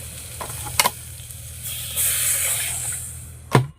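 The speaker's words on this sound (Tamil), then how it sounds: "இப்போ எல்லா காய்கறியும் உள்ள போட்டுருவோம்" A hot pot of sambar sizzles and hisses as vegetables and water go in, with a few clanks of a utensil against the pot.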